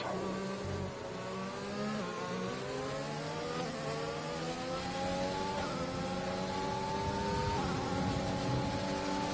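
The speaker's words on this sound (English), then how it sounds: "You can hear Dennis really working that throttle, really working that gearbox." Race car engine in a sim racing game, revving hard with rising and falling pitch sweeps as gears shift during a battle for position at the Brazilian GP, loud and continuous throughout with no talk.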